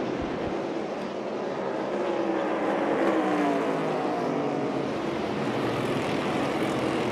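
NASCAR Cup Series stock cars race at Martinsville in a loud, continuous engine roar that swells and fades slightly as the field passes, with no voices over it.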